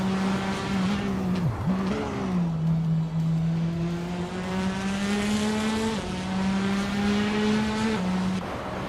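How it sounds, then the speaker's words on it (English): Race cars including a 2017 Audi RS3 TCR drone through a TCR race, a steady loud engine tone shifting pitch with gear changes and a brief squealing dip, continuous and unbroken. "Captain Canadian is driving a 2017 Audi RS3 TCR, which is known for its quick acceleration and nimbleness"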